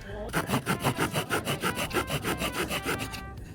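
A Japanese-made Conifer Cone butterfly folding saw cuts through firewood at a campsite, giving a steady run of about a dozen quick, even rasping strokes, close and clear, with nothing else over it.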